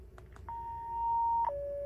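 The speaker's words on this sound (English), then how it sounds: "when you get a activation of your alert system, or your page tones rather," Voice pager alert tones set off a HomeAlert3+ bed shaker system: a few short clicks, then a long steady high tone that steps down to a second lower tone, clear and close.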